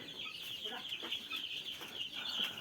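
Desi chicks in a poultry shed give a dense, continuous high cheeping chorus, steady and close, with faint murmuring beneath it.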